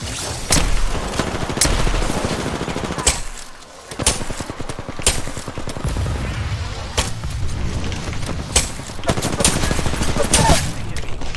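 Rapid, close gunfire from a squad battle in Apex Legends, with sharp repeated shots in bursts and sustained volleys, a brief lull midway, and occasional voices underneath.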